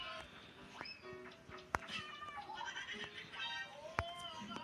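Faint cat meows in the game Avatar World come one after another, mixed with soft chirps and a couple of sharp clicks, quiet and close with light background noise.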